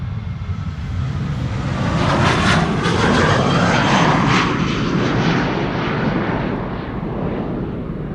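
A KLM Boeing 737 jet departs Amsterdam Schiphol, its engines a loud, close roar that swells past and then eases slightly, heard alone with no voices.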